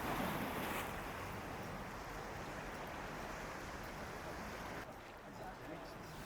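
Sea waves wash ashore at Cala Rajada, Mallorca, in a steady broad rushing surf mixed with wind buffeting the microphone, moderately loud and continuous, easing slightly near the end.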